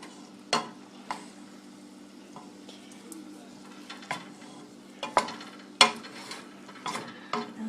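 Noodles being stirred in a pan with olive oil, giving soft scraping and clinking utensil taps against the pan at irregular intervals over a faint sizzle, close and fairly quiet with no talking.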